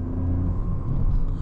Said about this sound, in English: Great turbo noise. Listen to that.